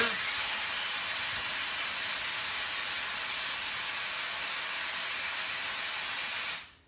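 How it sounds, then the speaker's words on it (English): An air compressor in a garage bleeds off air in one long, loud, steady hiss that holds for several seconds, then cuts off abruptly, during work on a 1972 Buick Skylark suspension rebuild. "sorry, longest air compressor bleed off ever."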